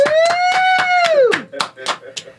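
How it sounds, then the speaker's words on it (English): An audience clapping to welcome a guest onto a comedy talk show, a run of sharp, rhythmic claps close by, led by a long drawn-out whooping cheer from a voice. "Let's give him a hand clap"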